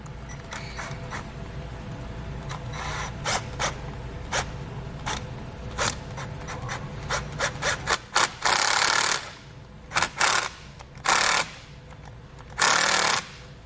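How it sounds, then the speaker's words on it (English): Hose clamps being tightened on transmission cooler hoses for a Derale Series 8000 plate-fin cooler kit. Rapid ratcheting clicks come first, then several loud, short buzzing bursts, close by and irregularly spaced. "So let's wrap those around there and then tighten them down."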